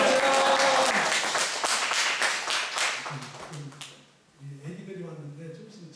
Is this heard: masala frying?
no